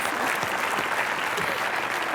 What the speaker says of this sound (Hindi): इन दोनों के लिए जोरदार तालियां